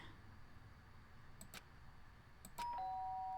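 A two-tone electronic doorbell chimes twice in the video game Danganronpa, short bright dings spaced about a second apart over a low hum of background music.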